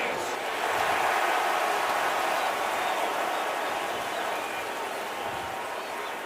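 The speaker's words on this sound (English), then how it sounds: "a big cheer goes up from Chiefs Kingdom" Kansas City Chiefs fans in the stadium raise a broad, sustained roar during a 2017 wildcard playoff game against the Titans, a distant crowd wash that holds steady throughout.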